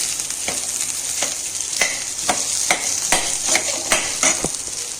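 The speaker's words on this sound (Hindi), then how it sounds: "तो यहाँ पे अभी मैं आलू फ्राई कर रही हूँ।" Potatoes fry in a pan with a bright, steady sizzle, punctuated by repeated sharp clicks and scrapes of a utensil turning them, close-up and unbroken by speech.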